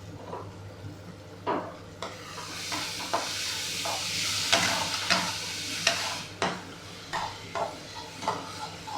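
A spoonful of ginger garlic paste fries in a pan for a Telugu egg fry, sizzling steadily while a spoon stirs and knocks against the metal in irregular clinks, near and alone.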